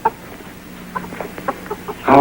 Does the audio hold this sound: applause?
no